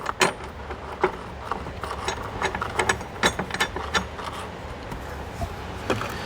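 A 13mm bolt on the battery hold-down bracket of a 2021 Audi A6 Allroad being run in with a hand ratchet, giving a steady run of quick, close clicking over a low background hum, with no talking.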